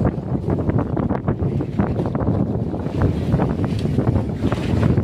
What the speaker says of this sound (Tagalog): Grabe ang hangin to.